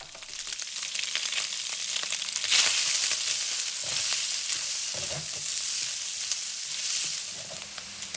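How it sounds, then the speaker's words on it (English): Diced Spam stir-frying in a wok, a steady loud sizzle with scraping and stirring strokes running throughout, close up and without any talk. "Now add the diced Spam and stir fry for about 5 to 7 minutes."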